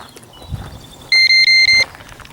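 A handheld geocaching GPS receiver gives a short run of four loud, evenly spaced electronic beeps outdoors, ringing clearly over faint background noise.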